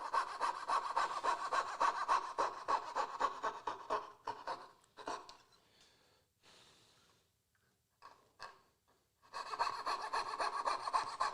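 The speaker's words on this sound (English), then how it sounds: "Instead of chiseling this, I'm just going to try to get really close with the saw." Hand saw cutting wood for a small box corner joint: close, steady back-and-forth rasping strokes, a short pause with a few light scrapes, then rhythmic sawing again.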